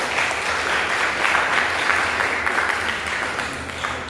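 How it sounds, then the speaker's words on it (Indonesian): Steady, dense applause from an audience at the opening of a ceramics exhibition at a museum, sustained clapping at even loudness for several seconds with no talk over it. "Tepuk tangan Bu ibu-ibu Aisyah ini"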